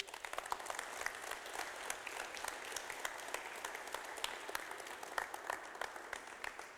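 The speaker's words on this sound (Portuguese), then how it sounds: "Dá uma salva de palmas para Jesus." A congregation at a Sunday church service claps for Jesus. The applause is steady and dense, with many hands clapping together at a moderate distance for several seconds without pause.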